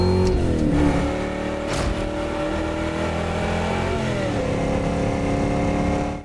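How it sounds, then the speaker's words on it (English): A car engine roars through a Jack Reacher movie car chase, holding a sustained, loud drone with rising and falling pitch as it revs and shifts, then fading at the very end. "Just another car chase, right?"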